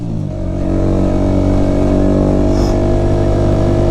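A motorcycle engine runs steadily close by, a dense, loud continuous drone that holds even throughout with no speech over it.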